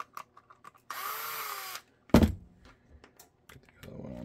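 A power drill drives 3/4 inch screws into a holster build for an HK P2000 with a TLR7 light, giving a short whirring burst and then a sharp clunk, set among light handling clicks and taps.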